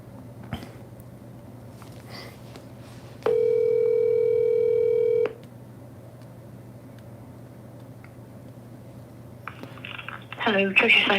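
A phone line tone sounds once for about two seconds, a steady electronic ring on a call trying to reach someone, over a low background hum with faint rustling and a brief burst of noise near the end.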